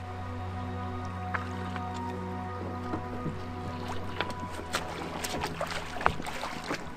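Canoe paddling across a lake in the Canadian wilderness, with soft watery drips and splashes from the paddle strokes over a steady low hum of background noise and light wind, fairly close and moderately quiet.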